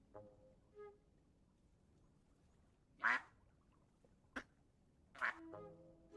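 Ducks quack in the cozy building game Tiny Glade, two short distinct quacks a couple of seconds apart standing out over a quiet ambient background, with a few softer chirps around them.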